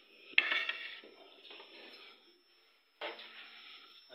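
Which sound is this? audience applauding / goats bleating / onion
onion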